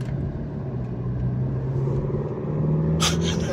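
Alfa Romeo Giulia with a 180 hp engine and AT8 automatic gearbox, set to dynamic mode, idles with a steady, loud low rumble from close by; a brief sharper burst comes near the end.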